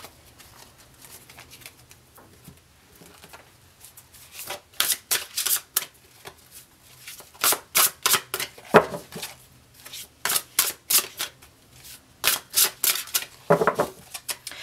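Tarot cards being shuffled by hand, close and crisp, in repeated bursts of rapid riffling and slapping separated by short pauses, with a quieter stretch at the start.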